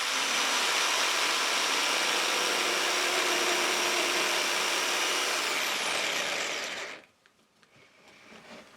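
Jigsaw making a crosscut through a clamped wooden board, a loud continuous buzzing whine held steady for about seven seconds before cutting off abruptly, leaving near silence.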